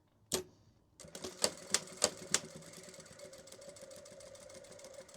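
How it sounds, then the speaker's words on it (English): A sewing machine stitches the two side pieces of a glasses case together, a sharp click and a brief pause, then a rapid rhythmic mechanical chatter with a few louder thumps early on, close and steady. "Now, let's stitch those two side pieces."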